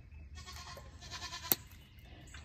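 Goats bleating in a barn during hoof trimming, a few wavering calls close by, with a sharp knock or clip partway through and quieter rustling between.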